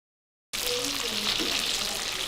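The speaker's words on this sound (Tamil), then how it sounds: "எண்ணெய் காஞ்சிருச்சு, நாம் இந்த நக்கெட்ஸை பொரிச்சு எடுத்துடலாம்" Steady, loud sizzling of chicken nuggets frying in hot oil, a dense crackling hiss that starts abruptly and continues without pause.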